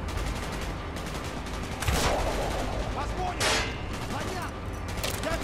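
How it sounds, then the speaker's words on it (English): Gunfire in Call of Duty: Black Ops, with sharp bursts of rifle shots, two louder close reports standing out amid ongoing distant firing and battlefield noise. "Gunfire's drawing attention."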